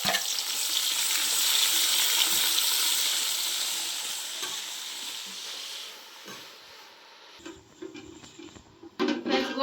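Gongura leaves fry with browned onions in a pan for a fish curry, giving a loud, steady sizzle and hiss that thins out toward the end, where a few stirring scrapes and clinks break in.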